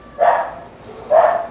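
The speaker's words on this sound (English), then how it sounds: "I got the little dog barking next door, like he always does" Small dog next door barking twice, short sharp yaps about a second apart, fairly clear against a quiet background.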